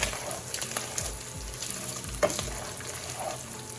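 Bacon frying in a pan until crispy, a steady close sizzle and crackle of fat with occasional soft scrapes and stirring clinks.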